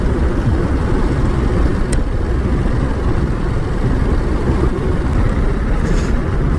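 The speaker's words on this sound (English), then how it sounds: "Hear the desmodromic valve gear clattering away, but it's a reassuring sound." A 2022 Ducati Monster engine idling with its desmodromic valve gear clattering, a dense, steady mechanical rumble with fine rattling texture, loud and close and unbroken throughout, with no voices.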